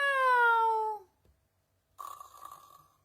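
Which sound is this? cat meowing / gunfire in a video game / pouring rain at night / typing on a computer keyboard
cat meowing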